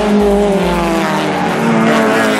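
Race cars on a circuit at an Opel club national meet, engines droning loudly and steadily with layered harmonic tones as the field lines up on the final straight and overtakes, with no talk.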